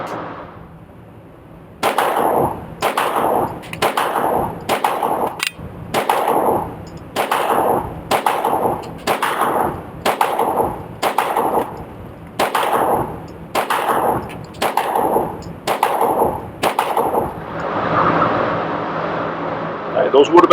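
Rapid string of loud, sharp pistol shots from a Wilson EDC X9 at an indoor shooting range, fired at a steady brisk pace with about fifteen evenly spaced reports, each followed by a short ringing decay.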